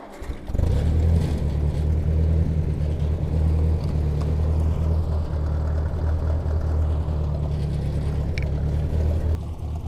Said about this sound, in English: the Ford tractor is still not running perfectly